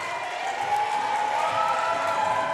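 Crowd at a girls' high school basketball game, Humboldt Lady Vikings against Lake County Lady Falcons, cheering and clapping in a steady, fairly loud roar that stays even throughout, with no single voice standing out.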